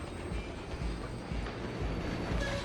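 A steam train runs in Red Dead Redemption 2, a steady broadband rumble with low, regularly spaced clacks rolling underneath, continuous and fairly close.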